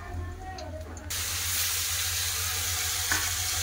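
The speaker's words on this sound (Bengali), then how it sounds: "এবার মাছ ভাজা হচ্ছে" Fish fried in hot oil for a spicy coriander-leaf fish curry, a steady, close sizzle that jumps louder after the first second and then holds at an even, crackling level alone.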